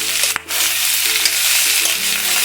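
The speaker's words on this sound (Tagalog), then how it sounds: "Halo-halo yan para mag-absorb yung bawang at saka sibuyas." Garlic and onion are stirred in a pan for pork humba, a close, loud sizzle with scraping stirs and a brief clatter near the start, no voices.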